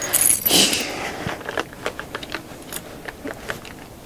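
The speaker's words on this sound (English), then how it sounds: "Let's see if I can find the keys." A bunch of keys on a ring jangles loudly near the microphone at first, followed by lighter clinks and small metallic taps as the keys are sorted through, for an old 1980 Chevy LUV 4x4 truck.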